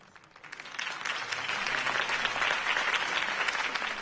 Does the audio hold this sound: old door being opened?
no